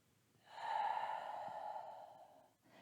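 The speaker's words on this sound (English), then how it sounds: "2 more, real intentional breathing here." A single slow, deep breath during chair yoga, a long airy exhale that swells and fades over about two seconds, close and quiet, with no talking.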